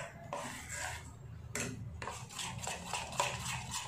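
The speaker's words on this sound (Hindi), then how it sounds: "आपको इसे तब तक फेंटना है जब तक इसमें बबल्स ना आने लगे।" Gram flour batter with asafoetida is whisked hard in a bowl, the utensil scraping and knocking in quick, continuous strokes at close range, with no voices.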